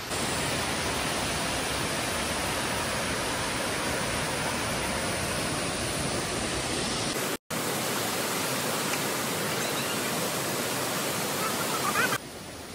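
A waterfall in Purulia, early winter with low flow, gives a steady broadband roar of falling water that runs continuously, with a brief dropout midway and no voices.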